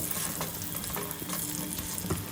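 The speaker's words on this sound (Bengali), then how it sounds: "এবার কেটে রাখা আলুগুলো দিয়ে দিলাম গরম তেলের মধ্যে তো এখন ভালো করে আলুগুলোকে আমি লাল লাল করে ফ্রাই করে নেব" Cut potatoes hiss and crackle in hot oil in a pan, a steady close sizzle with occasional louder pops and stirring scrapes, no one talking.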